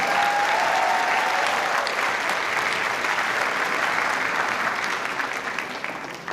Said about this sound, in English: Let's hear a shout out and applause for our families, family members.